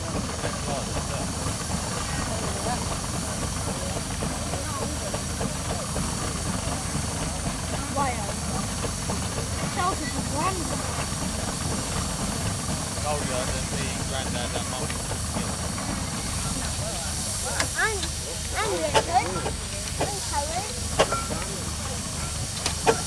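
A full-size steam traction engine nearly 130 years old, working in a country show arena, hisses steam in a loud, steady rush with a low rumbling undertone throughout, and a few faint clanks near the end.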